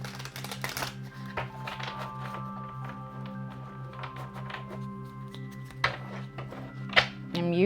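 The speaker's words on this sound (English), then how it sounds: "Let me give it a good shuffle." A Muse tarot deck is shuffled nearby, with soft papery riffles and taps over a steady low hum and a couple of sharper knocks near the end. No voices are heard.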